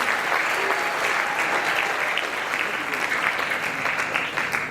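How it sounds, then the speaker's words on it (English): Steady, dense applause from a school assembly audience after a drama students' performance on bullying, continuous crowd clapping filling the room with faint voices underneath. "Can we please give them another round of applause?"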